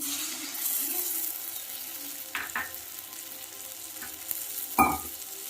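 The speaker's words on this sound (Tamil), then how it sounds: "இப்போ புளி கரைசலை சேர்த்துக்கலாம்." Tamarind water poured into dry fish thokku frying in a pan, with a steady soft sizzle and a couple of brief splashing bursts, close and moderately loud, no voices.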